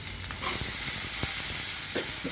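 Potato and cauliflower pieces frying in hot oil in a pan, a loud, steady hiss of sizzling with a few soft clinks of stirring, close up and continuous, no talking.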